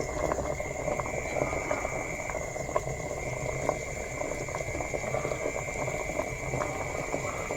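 A pot of Thai curry with rattan shoots and pork bones simmers while being stirred, giving a steady bubbling and faint clinking under a constant background hum.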